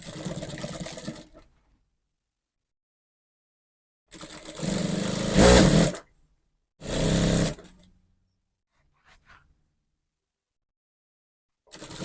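A sewing machine stitches a side seam of a six-piece dress, running in three separate bursts of steady motor whir with silent pauses between them, close and clear.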